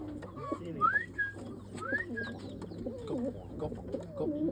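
A racing pigeon coos in a steady series of low throaty calls close by, with a couple of rising whistle-like notes early on and a constant low hum underneath.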